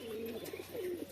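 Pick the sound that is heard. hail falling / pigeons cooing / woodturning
pigeons cooing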